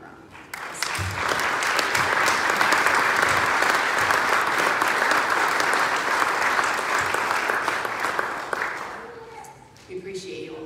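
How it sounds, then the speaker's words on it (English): A congregation bursts into sustained applause during a church worship service, loud and steady for about eight seconds before fading, with a voice speaking briefly as it dies away. "let's just give them a round of applause"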